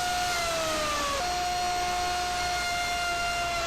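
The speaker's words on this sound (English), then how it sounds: "we just put the log in there and started turning it and put a tenon on it" Log tenon maker cutting a tenon on a spinning log, a steady whining hum of the cutter running continuously, with a tone that drops slightly partway through, loud and close with no voices.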